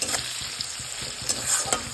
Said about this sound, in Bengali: একটু করে নুন দিয়ে ভালোভাবে নেড়ে চেড়ে নেব